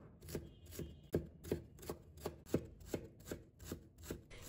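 A knife chops potato into small pieces on a board, about nine evenly spaced, muted thuds in a steady rhythm, quiet and near.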